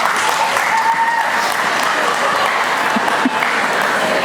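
Steady, dense applause from a large audience at a USD 497 school convocation, sustained and even throughout with no pause.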